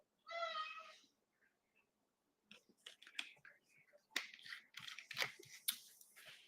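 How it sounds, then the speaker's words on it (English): A cat gives one clear, drawn-out meow near the microphone, followed by a pause and then close, low talking with scattered soft clicks and noises. "Why are you meowing?"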